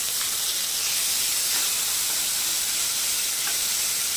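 Coral fish frying in a pan on the stove gives a steady, bright hiss and sizzle that holds at even loudness throughout, with no one talking.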